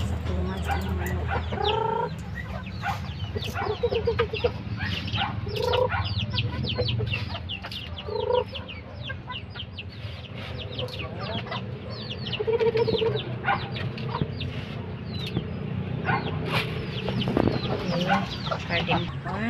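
Chickens cluck and squawk close by, a busy overlapping chorus of hens with occasional louder calls and faint farmyard background.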